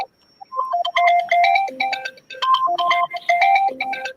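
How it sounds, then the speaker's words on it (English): A phone plays a text message notification melody, a bright run of quick chiming electronic notes repeated in short phrases, loud and close with no talking. "Let's see if does he react to the sound. That's the text reaching him."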